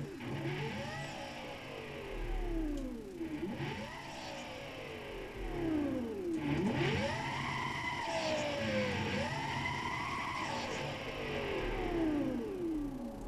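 A Porsche Carrera GT races in Need for Speed Most Wanted, its engine repeatedly revving up and shifting in sweeping rising whines, loud and close, with a steady road drone beneath.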